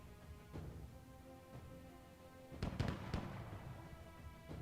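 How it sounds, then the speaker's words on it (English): Artillery destroyed on the battlefield in We. The Revolution, with a faint background of scattered pops and then a short cluster of sharp crackling blasts, heard softly under a low in-game music bed. "Shit, there goes our artillery."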